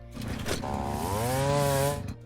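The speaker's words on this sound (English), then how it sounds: "this is a chainsaw, not a mining laser" A chainsaw item from the ORES+ game mod revs with a buzzing motor tone that rises and holds for about a second and a half, loud and close with no talk over it.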